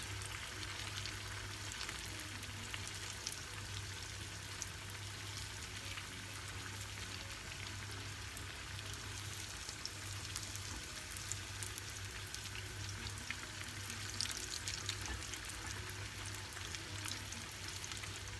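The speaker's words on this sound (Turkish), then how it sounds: "Daha iki tarafta nar gibi kızarınca tavadan alıyorum." Börek pastry made from yufka fries in a pan, a quiet, steady crackling sizzle that continues alone with no talk.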